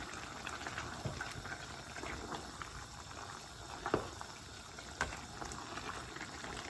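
A pot of Thai chicken curry with bamboo shoots simmers at a steady, quiet bubbling boil, with occasional louder pops and blips over the continuous liquid burble.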